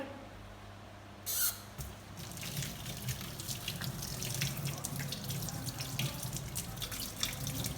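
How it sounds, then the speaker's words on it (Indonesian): Water runs steadily from a tap with splashing and dripping, likely hands being rinsed under the flow, continuing without pause. "Yang terakhir, bilas menggunakan air mengalir"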